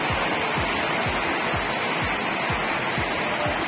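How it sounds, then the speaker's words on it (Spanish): Heavy rain pouring down on a farm, a loud continuous dense roar of falling water with faint rhythmic low thumps throughout, no talk. "¡Qué manera de caer agua, amigo!"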